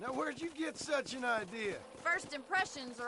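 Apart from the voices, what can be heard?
No everyday noises stand out.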